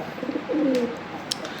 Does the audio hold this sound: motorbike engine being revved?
no